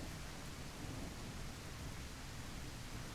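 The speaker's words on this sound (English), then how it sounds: "Yay, rain." Steady, even rainfall in a video game hisses as a dense, unbroken wash of noise, soft and constant with no talking over it.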